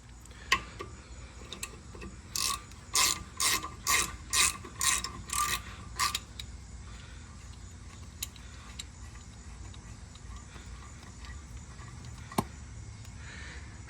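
A ratchet spins out the brake caliper bolts on a Lexus GX470 during a rear brake job, giving a close run of about seven quick clicking bursts and then a quieter stretch with a few isolated ticks.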